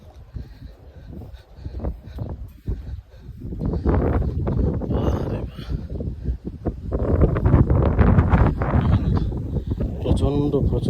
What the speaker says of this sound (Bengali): তো এখানে চলতেছে প্রচণ্ড হাওয়া।